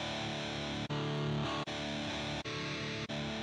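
A guitar runs through a distortion effect on a Zoom R8 recorder, giving a dense, buzzing sustained tone cut by four brief gaps as the effect settings change. It is loud and steady, with no talk.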